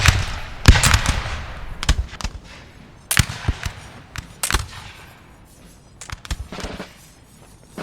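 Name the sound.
musket volleys of line infantry in Napoleon Total War video game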